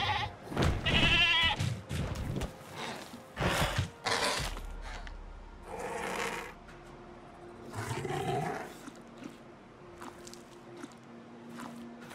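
Sauropod dinosaurs in a modded Jurassic World Evolution 2 let out several loud, goat-like bleating roars in quick succession, followed by fainter calls and low rumbles from the park.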